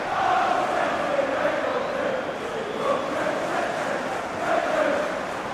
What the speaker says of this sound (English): Being egged on by the crowd.